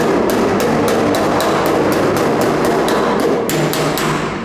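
A panel hammer strikes steel against a dolly during metalwork on a Ford Falcon show car, landing a quick, regular run of about a dozen sharp, close metallic taps with no speech.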